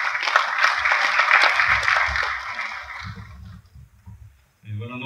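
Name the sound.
audience applause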